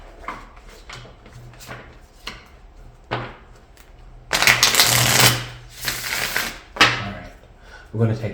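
A deck of tarot cards is shuffled close by, with scattered soft riffles, then louder bursts of rapid riffling and bridging midway and again near the end, a voice talking quietly in between.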